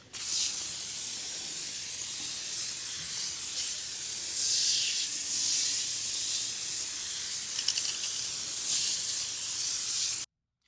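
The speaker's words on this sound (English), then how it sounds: "in here in my Marolex Foamer, I have the Adams wheel and tire cleaner" A Marolex foam sprayer applies Adams wheel and tire cleaner to a car wheel in a continuous, loud, airy hiss that swells and eases slightly before cutting off abruptly near the end.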